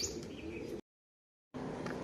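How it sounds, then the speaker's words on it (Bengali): Released racing pigeons, part of a batch of 23 flown in summer, give faint bird calls and soft cooing from a distance, broken by a brief stretch of near silence before the calls return. "23টা পায়রা ছেড়ে দেওয়া হয়েছে।"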